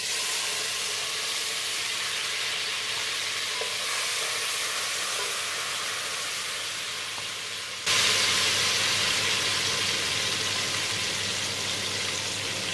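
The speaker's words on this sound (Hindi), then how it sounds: "इससे पहले हम इसमें हरी मिर्ची डालेंगे।" Green chillies fry in a spice masala of roasted ground coconut and whole spices, a loud continuous sizzle and hiss that jumps suddenly brighter partway through as more hits the hot pan.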